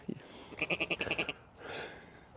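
A goat at a construction site gives a rapid stuttering bleat of about eight quick pulses, close and clear, preceded and followed by a soft voice and a brief rustle.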